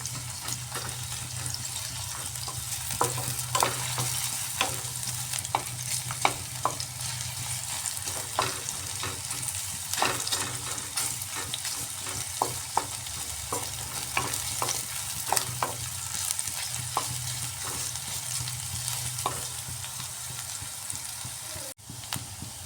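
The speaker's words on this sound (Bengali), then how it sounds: "পেঁয়াজটাকে ভালোভাবে ফ্রাই করে নিচ্ছি" Onions fry in a pan for chana dal and pea ghugni, giving a steady, close sizzle with frequent scraping stirs of a spoon across the surface over a constant low background hum.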